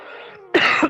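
A person who is recovering from an illness gives a short, loud cough and clears the throat at close range, after a brief moment of quieter throat noise.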